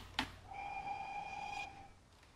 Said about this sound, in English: There's our spacebar whistle.